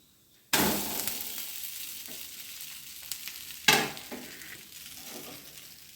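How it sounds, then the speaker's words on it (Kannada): Rice flour roti dough with jackfruit hits a hot griddle with a sudden loud hiss that fades, then a second burst of sizzling a few seconds later, close by with no talk. "ನೋಡಿ, ಇದನ್ನು ಕೂಡ ಈಗ ಕಾವಲಿಗೆ ಹಾಕಿಕೊಳ್ತಾ ಇದ್ದೇನೆ."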